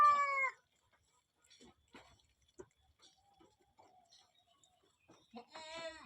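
Cat meowing among sheds of breeding animals, a clear harmonic meow at the start and another near the end, separated by quiet rustles and faint soft sounds.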